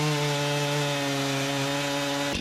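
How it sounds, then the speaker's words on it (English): A Stihl MS261C chainsaw trims the end of a log for a sawmill, its engine holding a loud, steady, close whine throughout before cutting off abruptly at the end. "I get to use my new Stihl MS261C to help out a little bit. We're just trimming up the end of this log so it's a nice even cut"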